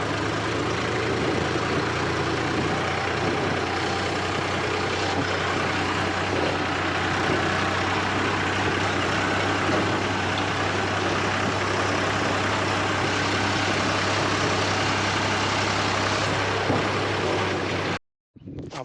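A tractor hitched to a cart idles steadily in a field, a loud, close low rumble that holds for the whole stretch and cuts out briefly near the end.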